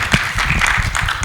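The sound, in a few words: audience applause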